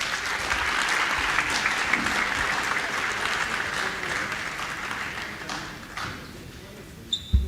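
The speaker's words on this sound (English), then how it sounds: "Can we please have a huge round of applause?" A conference audience at an investing festival gives a sustained round of applause that holds steady for several seconds, then thins out and fades near the end.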